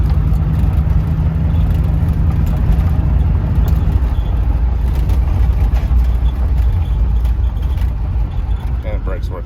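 A 1969 Chevrolet Camaro engine rumbles steadily at low pitch while cruising, with a constant drone throughout and faint road noise.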